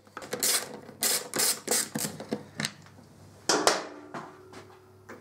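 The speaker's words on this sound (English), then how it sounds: "take off the remaining bolts around the top" Ratchet wrench loosening the airbox lid bolts on a 2013 Triumph Street Triple R, a run of rapid clicking bursts close by with short pauses, ending in a louder burst and a faint metallic scrape.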